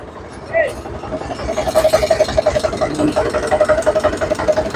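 A tractor idles at a tractor market in Malout, its engine chugging in a steady, close, pulsing rhythm while someone talks over it.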